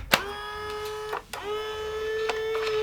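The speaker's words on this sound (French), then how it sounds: "on appuie sur le bouton Start et la machine va opérer un cycle de débourrage toute seule" A Powermatic electric cigarette tube filler running its automatic unjamming cycle, with a steady motor hum broken by a few clicks and mechanical knocks, close and moderately loud, with no talk.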